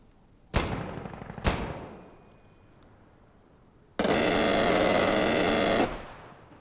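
Airstrike explosions land close by in the military game Arma: two sharp loud blasts a second apart with decaying rumble, then after a pause a sustained roaring burst of several seconds that cuts off abruptly.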